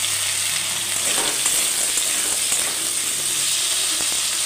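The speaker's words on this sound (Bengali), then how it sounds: "আলুটা হালকা করে ভাজবো" Potatoes fry in oil in a pan, giving a steady, fairly loud sizzle with faint clicks of stirring and no talking.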